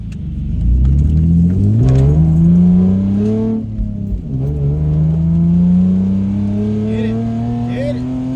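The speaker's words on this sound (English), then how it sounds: "But I have a straight pipe, and that's what's on my car. So yeah, it sounds awesome." A Lexus IS300 with a straight pipe exhaust revs up through rising pitches, drops briefly at a gear change, then climbs again, close, loud, raw and rumbling.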